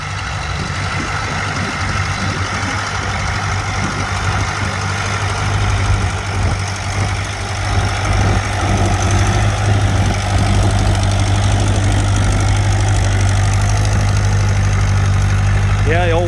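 An antique gray tractor hitched to a one-bottom plow idles steadily at a plow day, a constant low chugging with a faint knock, close by and continuous while people talk nearby.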